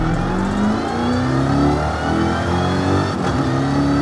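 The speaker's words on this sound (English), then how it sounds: "you can actually hear the supercharger whine" A car engine with supercharger whine in Forza Horizon 5, loud revving and accelerating with rising and falling whine tones, close and continuous with no talking.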